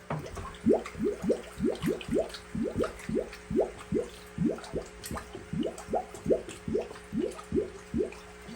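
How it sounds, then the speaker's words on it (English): Dirty fish water from an aquaponics system being poured into a gallon jug, with steady rhythmic glugging gulps repeating close up, about two per second, with no talking. "fill that up with some of the dirty fish water"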